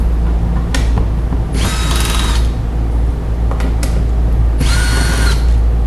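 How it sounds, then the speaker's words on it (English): A power drill on a Chevrolet Silverado door panel runs in two short loud whirring bursts to back out 7mm bolts, with clicks and handling noises between them. "let's go ahead and take the 7mm off the top."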